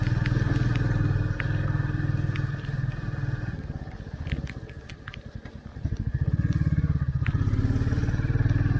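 A new Royal Enfield Classic 350 motorcycle runs on a hill road in the rain, its steady thumping engine drone close and loud, dipping briefly midway before picking up again, with light clatter over it and no talking.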